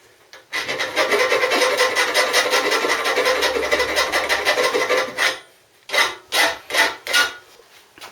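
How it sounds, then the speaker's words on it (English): Scraping and filing slag and weld wire off a welded motorcycle frame in a garage, a loud, close, continuous rasping stroke for several seconds, then four shorter separate scrapes. "Just cleaning off all the bits of slag and bits of slag"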